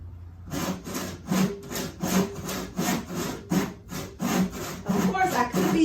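A handsaw cuts through a piece of scrap wood along a marked line, steady back-and-forth strokes rasping in a regular rhythm of about two per second, close and clear with no talking.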